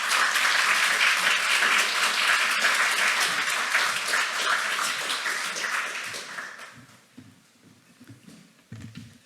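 A church congregation at an eighth-anniversary thanksgiving service claps loudly to welcome the pastor to the pulpit, a dense burst of applause that holds for about six seconds before thinning out and fading into quiet room noise.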